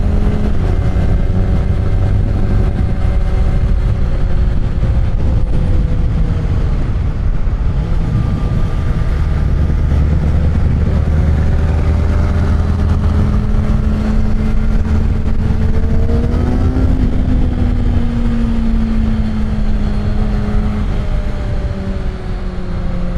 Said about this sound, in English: That truck next to me is trying to act tough with his 500 horsepower.